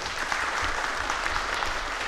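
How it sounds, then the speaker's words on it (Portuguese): Brief applause for a city councillor in a council chamber: a short, steady burst of dense clapping from the room, with no talking. "vamos aplaudir aí o vereador."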